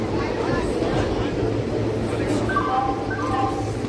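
Station ambience around the Chennai Central-bound train on the Bhubaneswar–Vizag route: a steady rumbling hum with brief high squeals near the end, while people talk in the background.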